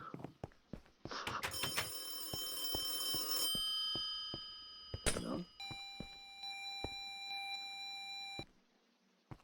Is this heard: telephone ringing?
yes